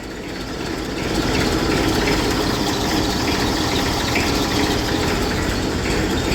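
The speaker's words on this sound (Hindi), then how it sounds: "और दोस्तों धोने के बाद आपको ट्रैक्टर ज़रूर स्टार्ट करना चाहिए।" A tractor engine idles steadily just after being started, a loud continuous rumble with a fast mechanical chatter that swells in the first second and then holds even, with no talking.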